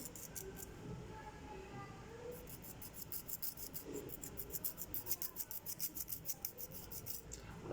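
Nail file rubbed lightly across fingernails, quiet and close, first soft scraping, then a run of quick, even back-and-forth strokes in a steady rhythm.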